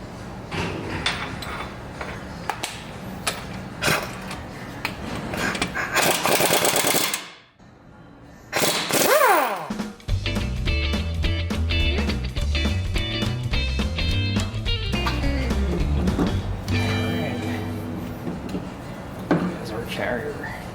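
Spanner nuts are removed from a Mopar 8 3/4 rear axle on a 1967 Coronet using an impact tool, with repeated loud rattling bursts, metallic clanks and brief pauses, close by under intermittent talk.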